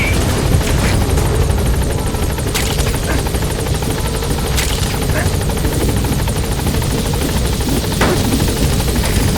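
A helicopter arrives at a landing zone in Metal Gear Solid V: The Phantom Pain, its loud, continuous rotor thrum and engine whine filling the scene, with occasional sharp clicks over the steady roar.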